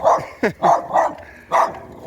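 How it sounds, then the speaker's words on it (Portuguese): A small dog barks in a quick run of five sharp, close, loud yaps with brief gaps between them, heard alone. "Ele é bravo, né? Feroz. É um cachorrinho feroz."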